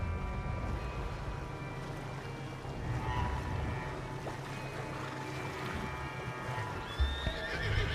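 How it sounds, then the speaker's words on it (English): Horses whinny and neigh in the Western video game Red Dead Redemption 2, with hooves clip-clopping and a loud snort near the end, set over a steady ambient bed with no talking. "The horses are confused. We need to round them up."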